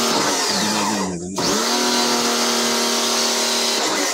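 Air blowing strongly from the aircon vents of a 2022 Mitsubishi Xpander after cleaning, a steady close whooshing rush with a faint hum and a brief dip partway through.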